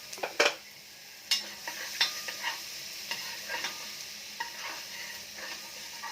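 Chopped onion and garlic sautéed in a pan for spaghetti, with close scraping stir strokes and sharp utensil clinks over a soft, steady sizzle, with no talking.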